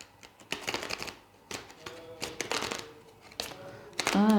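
Tarot cards being shuffled by hand, a run of crisp riffling and sliding bursts in uneven clusters with short pauses between, close and fairly loud, no talking.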